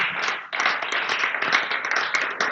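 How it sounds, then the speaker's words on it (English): Congregation applause at a spiritual living center service, a close, steady burst of many hands clapping with no talk over it. "applause for him for being here today"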